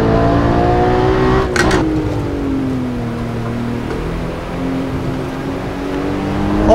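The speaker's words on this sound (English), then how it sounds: "it's right here when I'm hard braking for this right-hander" A car in a sim racing video game braking hard into a right-hand corner, its loud engine note sweeping down sharply and then droning steadily on, close and with no talk.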